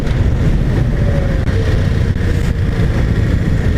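A 1999 Kawasaki Vulcan 750 motorcycle engine runs loud and close, a dense continuous low rumble holding steady throughout.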